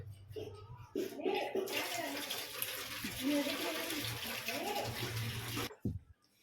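Running water rinses green chillies for mirchi bajji, a steady splashing wash lasting several seconds, close and fairly loud, with a faint voice underneath, then stopping abruptly near the end.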